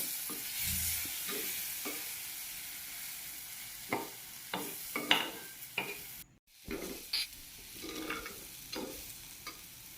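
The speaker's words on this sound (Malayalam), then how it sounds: "1 ടീസ്പൂൺ മുളക് പൊടി എല്ലാം ചേർത്ത് നല്ലോണം ഒന്ന് അതിൻ്റെ പച്ചമണം പോണ വരെ ഒന്ന് ഇളക്കി കൊടുക്കാം." Chili powder being stirred in a frying pan for a mango fish curry: steady scraping and stirring strokes over a soft, continuous sizzle, with sharper scrapes clustering in the second half.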